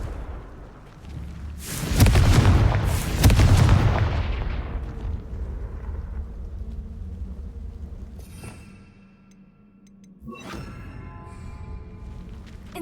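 Confringo explosive spell blasts in Hogwarts Legacy on PS5: two heavy booming explosions close together with long rumbling tails, then a lighter crackling burst later.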